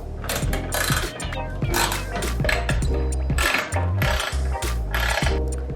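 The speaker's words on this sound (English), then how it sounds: "I just put all the bolts in place and now I'm gonna tighten them." A ratchet tightens the rear bumper bolts on a Toyota Tacoma TRD Pro, a busy metallic clicking that comes in repeated bursts close up, with heavy low knocks and clanks of tools and parts between strokes.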